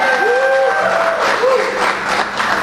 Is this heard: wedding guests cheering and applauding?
yes